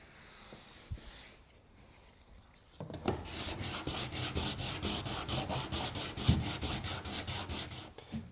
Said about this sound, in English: I sanded the big drips with that hard piece of plywood with the sandpaper on it